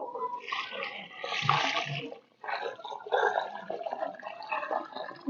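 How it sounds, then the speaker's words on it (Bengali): A full bucket of water poured onto the soil around a newly planted tree: a gushing splash, a brief pause, then more uneven pouring and trickling close by, with no talking. "এবার আমি এক বালতি পুরো জল দিয়ে দিব"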